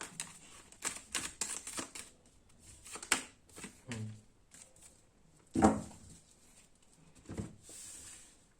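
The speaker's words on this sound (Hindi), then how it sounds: "मैं कुछ और कार्ड्स निकाल लेता हूँ" Tarot cards drawn and handled at a reading, a run of soft papery flicks, slides and taps close by with brief pauses, no talking over them.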